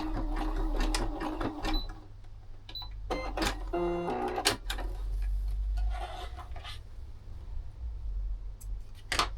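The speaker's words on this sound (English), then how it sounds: "Just straight stitch is fine." A sewing machine straight-stitches coin purse fabric in short runs of rapid mechanical chatter, broken by pauses and small clicks and handling noises, close up over a low steady hum.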